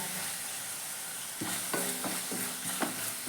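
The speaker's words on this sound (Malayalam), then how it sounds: "അപ്പോൾ ഇതാ ജസ്റ്റ് ഒന്ന് ഇളക്കി കൊടുത്തിട്ടുണ്ട്" Turmeric being stirred into hot oil in a frying pan gives a steady sizzle, with a few scraping strokes of the spoon against the pan in the second half and no talking.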